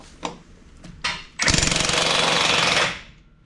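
A power tool hammers while 14-year-old bus tires are being changed. Two short taps lead into a loud, rapid, close hammering burst of about a second and a half, which then trails off.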